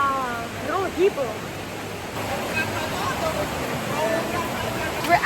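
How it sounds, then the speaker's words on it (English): A waterfall in East Java gives a steady, broad rushing roar close by, with people talking over it. "We're actually in the waterfall."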